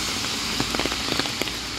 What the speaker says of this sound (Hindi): ये अभी ट्री के ऊपर से गिर रही है बारिश, जो दरख्तों के ऊपर गिरी हुई है ना बारिश।